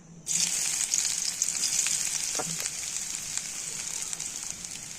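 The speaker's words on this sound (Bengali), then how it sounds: "এটা এখন তেলে দিয়ে দেবো।" Onion, garlic, green chilli and ginger filling for sattu paratha hits hot oil and bursts into a loud, steady sizzle that carries on without pause, with a few faint clinks of stirring near the middle.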